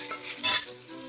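Shredded green and red peppers stir-fried in a very hot wok over strong flame, after ginger, scallion and garlic are fried in oil, giving a brief loud sizzle and clatter that peaks midway and settles into steady hissing.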